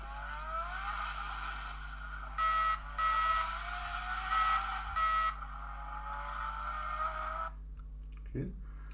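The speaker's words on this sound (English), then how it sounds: "Oh, you're gonna have this engine sound on." A battery-powered electronic engine sound effect plays from a Toyota Supra model kit, a steady synthetic hum with a few brief revving bursts before it cuts off, followed by a faint clunk.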